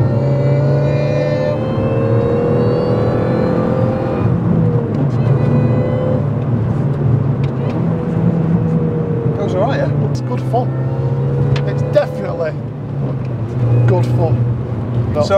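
Supercharged Mini Cooper S Works GP1 driving on a wet British B-road, a steady loud engine drone with shifting revs, interior road noise and scattered clicks throughout.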